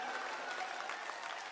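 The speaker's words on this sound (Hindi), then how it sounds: "ताली बजाओ, बढ़िया बात कह दी मैंने।" Audience applause at a Hindi comic poetry gathering, a dense continuous patter of many hands at moderate distance, steady throughout without a break.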